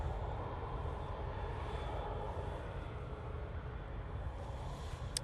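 An EasyJet airliner waiting to depart Manchester Airport for Athens produces a steady, loud, broadband engine rumble with a faint high whine, continuous and unbroken throughout.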